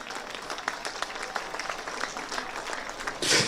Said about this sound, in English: Could we give both competing teams a big round of applause?